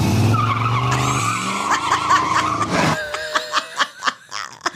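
A voice mimics a car's tyres screeching on a Chicago street, drawing out a wavering, squealing tone that gives way to bursts of laughter.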